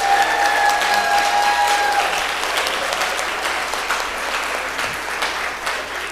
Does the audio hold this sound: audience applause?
yes